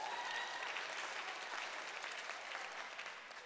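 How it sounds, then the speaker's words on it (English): Audience at a Saturday morning forum applauding, a dense, even wash of clapping from a sizable crowd that holds steady and begins to taper toward the end. "Give yourself a round of applause."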